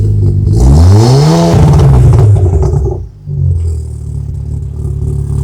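A classic car engine revs hard and loud close by, the pitch climbing and then dropping, before settling back into a steady rumbling idle.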